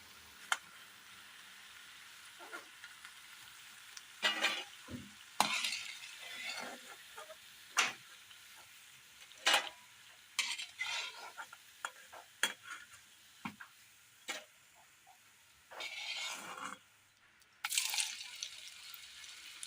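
Kerala snacks deep frying in oil bubble softly, then bursts of louder sizzling and scraping come as pieces are turned and lifted out, spread irregularly over the stretch.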